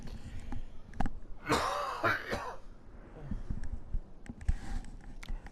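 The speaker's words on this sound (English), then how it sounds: "Just need to clear my throat." A man clears his throat in one harsh burst partway through, set against quiet room tone with faint clicks before and after.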